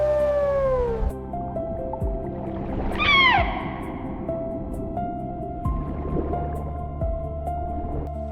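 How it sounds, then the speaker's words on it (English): Killer whale pod vocalizations: clear descending whistles and a sharp rising-falling call, with tonal hums and watery gurgles between them, close and fairly loud with no talking. "Every killer whale pod possesses its own unique acoustic dialect."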